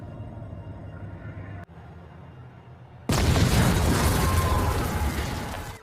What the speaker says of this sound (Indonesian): Pada saat mobil tersebut meledak